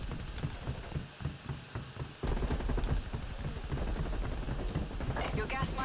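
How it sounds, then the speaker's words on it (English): Guns fire repeatedly in a zombie shooter game, with rapid rhythmic bursts of gunfire that grow heavier and denser midway, loud and close, with brief electronic tones near the end. "if you were shooting these guns all the time like this"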